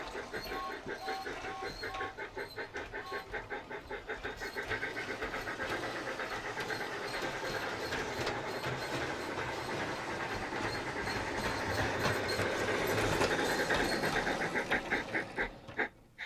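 Bachmann G scale Percy model train with DCC sound, chuffing steadily with rhythmic beats, bell-like tones and hiss, loud and continuous throughout, with a voice briefly audible near the start.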